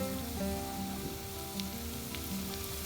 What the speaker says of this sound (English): we're maybe going to fry this for like 30 seconds and then add the tomatoes